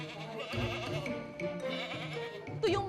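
Goats bleating at a dairy farm, several close, wavering animal cries rising and falling over a continuous murmur of farm noise, with a louder bleat near the end.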